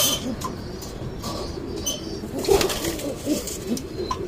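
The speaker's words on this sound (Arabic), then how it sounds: "بص هنا، بص هنا، تلاقي الحمام كله قلق معاك" Pigeons in a loft coo softly and shuffle about, with occasional wing flutters and scraping, close by and continuous at moderate volume with no talk.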